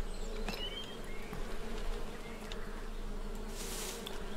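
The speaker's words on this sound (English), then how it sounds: "All I hear are bees." A steady, close insect-like buzzing of bees in a video game drones continuously, like a swarm, over a constant low hum with faint clicks and blips.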